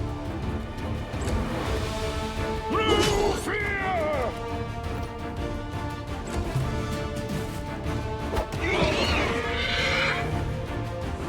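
A horse whinnies twice with rising, shaky neighs over busy combat sounds, clashing effects and talking voices in the video game Pathfinder: Wrath of the Righteous.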